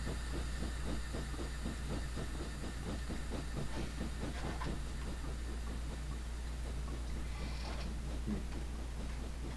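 A 7F steam locomotive runs in Train Simulator 2018, its steady rhythmic chuffing beats repeating evenly over a constant low rumble and hiss, with a brief metallic squeal near the end.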